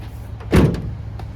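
A single solid thunk as a storage compartment latch in the bed of a 2025 Chevrolet Colorado WT pickup snaps shut, short and close, followed by a faint rattle.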